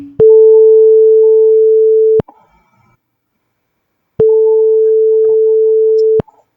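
Two long, steady telephone tones at one fixed pitch, each lasting about two seconds with a clean start and stop, separated by a silent gap, loud and close with no voices.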